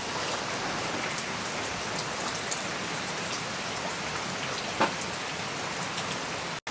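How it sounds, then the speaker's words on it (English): Steady, heavy rain pours down evenly with a constant wash of drops on surfaces, uninterrupted for the whole stretch. "So it has been raining for about, well, 2 days straight now."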